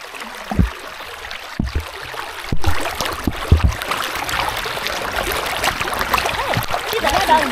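Water flowing in a stream in an African village where clothes are washed, a steady trickling rush that builds in the second half, with splashes and thumps near the start.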